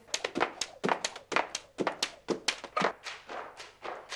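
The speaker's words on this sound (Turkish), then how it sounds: "yine ip atlıyor" Dull, rhythmic indoor thumps from someone jumping rope, landing again and again at a steady quick pace, moderately loud and close, with no talk.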